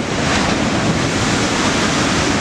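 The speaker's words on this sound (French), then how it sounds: "Il y a quelques vagues aussi." Continuous roar of ocean surf breaking at a beach break, loud and broadband with wind rushing over the microphone, no speech.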